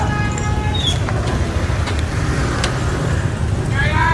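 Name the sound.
road traffic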